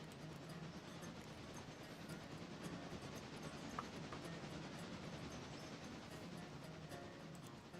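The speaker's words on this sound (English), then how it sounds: "here comes the excursion train" Excursion train in the Railroader video game approaches on a steam railroad, a faint continuous rumble with light rail noise and hiss, no talk.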